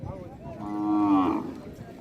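A bullock at the Maddur cattle market in Narayanpet district, Telangana, lets out one loud, drawn-out moo that swells and fades over about a second, with soft background murmur.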